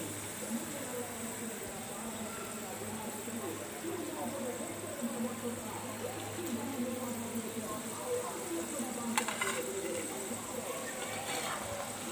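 Potato chips frying in hot oil, turning golden brown, give a steady, even sizzling hiss throughout, with a faint voice at times.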